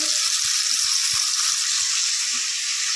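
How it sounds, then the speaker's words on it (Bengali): Bhetki fish fries in a pan at home, a steady loud sizzle with a few soft low knocks scattered underneath, no voices. "এখন মা ভেটকি মাছ ভাজছে।"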